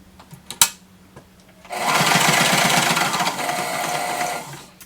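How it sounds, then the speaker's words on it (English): A sewing machine stitches a slipcover cushion cover seam, running backwards in a steady, fast mechanical chatter for about three seconds after a few light clicks and a sharp tap, close and loud with no talk. "We're going to put the foot down, I'm going to sew backwards."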